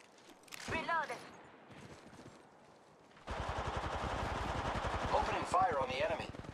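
Gunfire in the mobile shooter Apex Legends Mobile: a few scattered shots, then a rapid, sustained automatic burst that rattles on loudly to the end.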